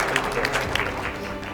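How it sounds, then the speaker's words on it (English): Brief audience clapping at a motivational speech event in Oklahoma City, a short burst of applause with a voice talking over it. "Let's give a round of applause for that."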